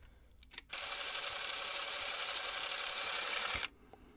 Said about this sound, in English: you can hear the difference in the shutter speed